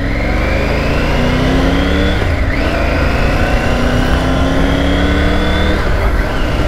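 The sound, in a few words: car passing by a motorcycle rider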